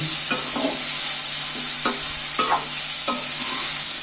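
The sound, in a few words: stirring and lightly frying ingredients for chicken momo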